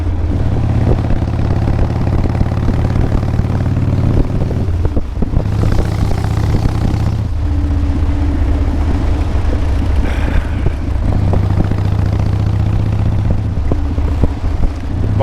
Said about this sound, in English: I love the way Blue Moon sounds. Drag pipes sound good.